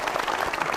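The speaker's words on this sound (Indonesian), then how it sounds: "Tepuk tangan dulu" Brief burst of audience clapping at a talk in Indonesia, a dense, even patter of many hands, fairly faint, with no voices heard.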